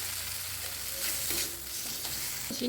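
Tomato frying with salt in oil hisses in a continuous soft sizzle, with occasional stirring scrapes and clinks; close but fairly quiet, no talking.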